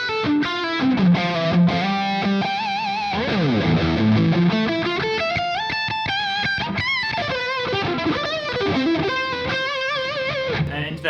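An electric guitar plays a heavily distorted yet articulate lead through a Soldano SLO 30 amp with delay, bending notes and quick runs ringing out loud and alone with echoing repeats.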